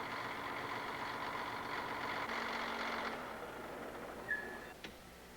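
A steady heavy-equipment engine idles while warming up, a low, even drone that softens partway through, followed by a couple of faint mechanical clicks.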